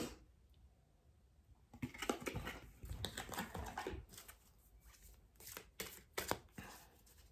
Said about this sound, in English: Let's pull couple of cards, guys. I even got an angel answer card today,